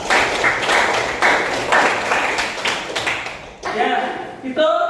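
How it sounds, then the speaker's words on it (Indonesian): A class applauds during a history lesson, with broadband clapping filling the first three and a half seconds before it breaks off and a voice starts speaking. "kasih aplaus"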